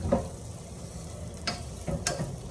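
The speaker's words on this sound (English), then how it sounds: "Stir it up." A wooden spoon stirs cooked beans in a new saucepan, giving soft scraping strokes with a few sharper scrapes near the end over a low sizzling background; no voices.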